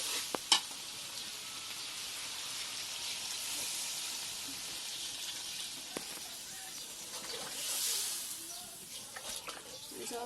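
Water poured into a pan of meat curry brings up a bright, continuous sizzle that hisses steadily at close range, with a few sharp crackles near the start and a swelling surge toward the end.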